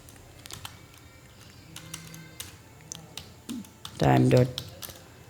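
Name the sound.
typing code on a computer keyboard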